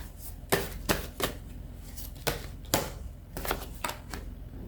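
Tarot cards shuffled and drawn from the deck, a series of sharp, crisp card snaps and flicks at irregular intervals, close and fairly quiet with no talk.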